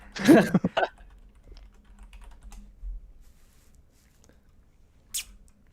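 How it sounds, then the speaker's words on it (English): A short burst of keyboard typing, a quick cluster of clicks near the start, then quiet with a faint tap later. "We can hear your keyboard."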